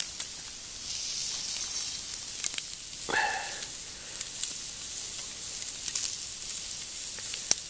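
Bologna sizzles and fries steadily in a pan over an outdoor wood fire, a constant close hiss with faint crackles and a brief scrape of the pan partway through.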